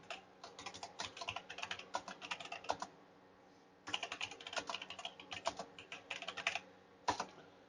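Close, quiet typing on a computer keyboard in rapid irregular bursts of key clicks. A pause of about a second splits two long runs, and a short final flurry closes it out.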